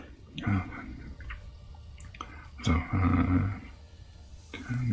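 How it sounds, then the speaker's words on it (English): A monster sound effect plays in a tabletop game session: low rumbling roars and heavy thudding steps in a few loud surges, close and booming. "More trembling, thundering steps with other roars."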